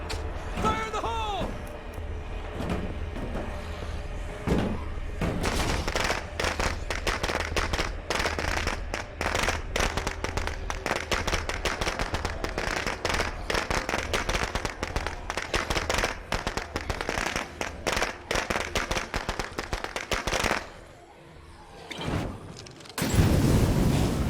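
Grenade explosions and gunfire from a video game siege battle pour out as a long, dense barrage of sharp cracks and pops, with speech heard now and then and a brief quieter lull near the end before the firing returns.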